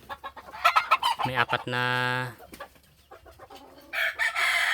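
Labuyo junglefowl chickens kept as pets, one crowing clearly in a loud, drawn-out call between scattered soft clucks, with someone speaking briefly nearby.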